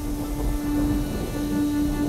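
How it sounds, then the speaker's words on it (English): Steady rain pours down with a low rumble of thunder underneath, a continuous dense wash of sound at moderate distance with no voices. "Oh, I think it's going to rain. Rain started."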